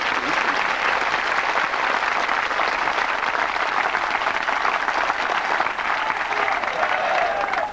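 An audience at a spiritual gathering claps continuously, a steady, dense roar of applause that stays level for the whole stretch with no break.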